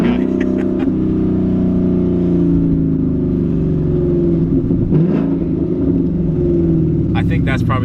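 A 2019 Ford Mustang GT engine revs and pulls with a steady, loud drone from start to finish, pitch wavering as it accelerates; voices talk over the engine noise.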